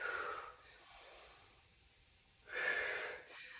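Deep breathing during a standing quad stretch, with close, airy inhales and exhales that rise and fall in two strong swells and a softer breath between them.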